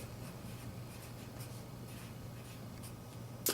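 Pen scratching across paper in short strokes, faint and close, with a quiet room hum underneath.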